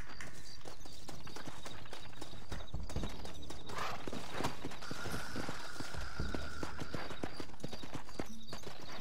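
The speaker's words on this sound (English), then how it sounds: "Looks like Carlos left us some horses." Horses clip-clop in the video game Red Dead Redemption, quick, close hoofbeats on hard ground with a brief whinny and faint mechanical clicks, over a continuous background hiss.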